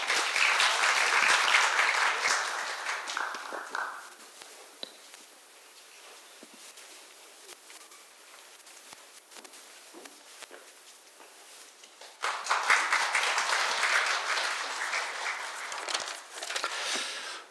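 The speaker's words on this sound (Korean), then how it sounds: "큰 박수 부탁드립니다." An audience at a healthcare-industry labour-management meeting gives a loud, full round of applause. It fades to shuffling and rustling, then swells again into a second long burst of clapping.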